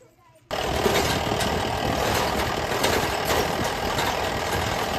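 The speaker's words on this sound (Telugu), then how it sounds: "మనమైతే జీప్లో కూర్చుందాం" A jeep engine runs steadily on a rough hill road near Vanajangi, starting abruptly after a short quiet moment and then holding a constant loud rumble with rattly knocking, with no voices over it.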